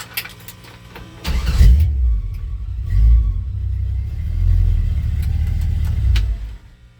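1966 Chevy C10 truck on a 1972 C10 frame, its engine rumbling low and loud as it backs up, with a surge of revs near the start and a steady idle-like drone before settling.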